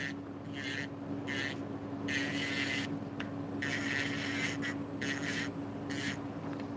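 A steady electric hum with intermittent high whirring bursts as a small rotary nail drill files acrylic nails in short passes, close up.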